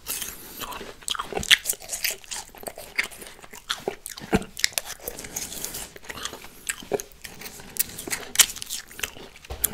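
Close, loud crunching bites and chewing of Thai mixed pickled fruits come in an irregular rhythm of sharp crisp snaps followed by softer wet mastication, with no talking.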